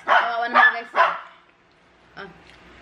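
A pet dog barks in a home, three quick close barks in a row followed by a fainter single yip after a pause.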